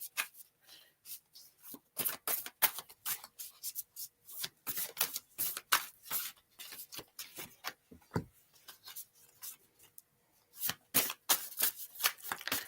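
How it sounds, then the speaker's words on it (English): Repeated bursts of tarot cards being shuffled and riffled, crisp and close, in irregular clusters with short pauses between. "Or Moira, I'll ASMR my shuffling."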